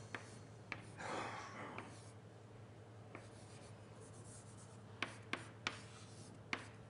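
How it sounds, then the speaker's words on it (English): Chalk or marker writing an equation on a board during a partial differential equations lecture, a scratchy stroke followed by scattered sharp taps and clicks in a quiet room with a low hum. "let me write it as in the old form"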